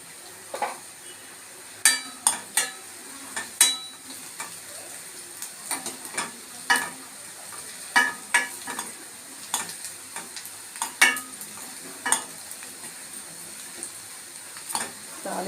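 Spices for a rasam tempering with asafoetida stir and pop in hot oil, a soft background sizzle broken by sharp, irregular crackles and spoon clicks, close and fairly quiet.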